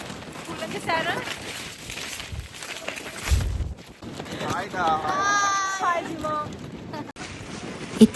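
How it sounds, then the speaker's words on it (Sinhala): Strong wind gusting across an open Atlantic beach on the day before a storm, a steady broadband roar with buffeting on the microphone, with a voice speaking over it. "හුළඟ සැර"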